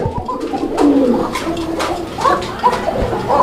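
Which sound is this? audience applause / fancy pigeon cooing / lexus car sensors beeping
fancy pigeon cooing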